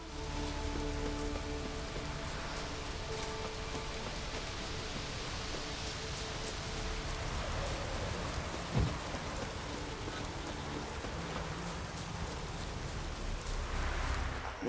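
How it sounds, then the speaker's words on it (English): Steady rain falls in the video game The Witcher 3, a dense, even hiss that continues unbroken throughout, with a faint low thump partway through. "It's also raining, so no direct light from the moon or such."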